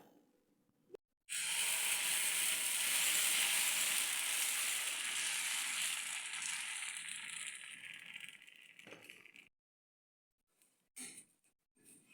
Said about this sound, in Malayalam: ദോശക്കല്ല് ചൂടാകുമ്പോൾ എണ്ണ തടവി നമുക്ക് ദോശ ചുട്ടെടുക്കാം.